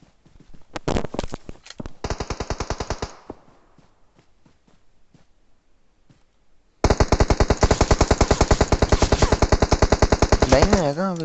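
Automatic gunfire in a battle royale video game: a short burst of rapid shots, then a long sustained volley of loud, evenly spaced rounds, with a few scattered single shots in between.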